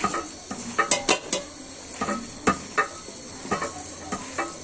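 Four-lentil piyaju batter with green chili paste and dried chili paste being mixed by hand in a bowl: soft wet squelching broken by irregular light clinks and taps, close and fairly quiet.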